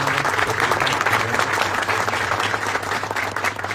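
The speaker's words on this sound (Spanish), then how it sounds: "le voy a pedir un fuerte aplauso para los tres" Audience applause at a European Union–Mercosur trade agreement panel event, a sustained, loud, even round of clapping from a large room, easing slightly toward the end.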